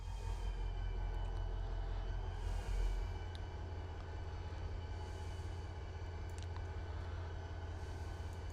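A train rolls along in the Trainz railway simulator, hauling little yellow ballast wagons: a steady low rumble and hum of running gear throughout, loud and close, with faint higher clanks and squeals over it.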